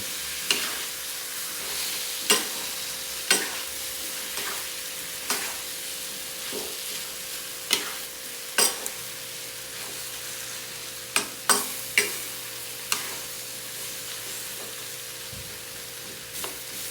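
Beaten eggs are stirred into sautéed bitter melon in a pan, with a soft, steady sizzle broken by repeated sharp clacks of a utensil against the pan at an irregular pace.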